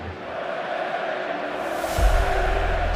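A Barcelona football crowd in a stadium during a match against Deportivo La Coruña, a broad roar of fans that swells into louder cheering partway through, distant and continuous.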